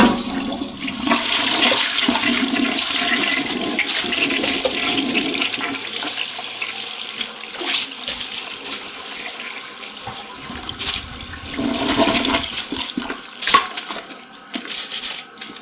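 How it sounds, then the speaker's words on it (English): A toilet being cleaned of stubborn brown stains flushes loudly nearby, a sustained rush of swirling water that slowly eases into refilling gurgles, with a few clunks and splashes near the end. "now we're just gonna flush"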